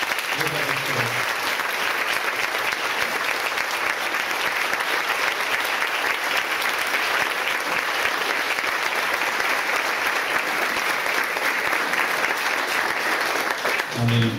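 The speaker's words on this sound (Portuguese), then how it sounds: "Vamos saudar estes com uma salva de palmas." Church congregation applauding during an evening worship gathering, a dense, steady wash of many hands clapping that fills the room for the whole stretch, with a voice faintly under it near the start and end.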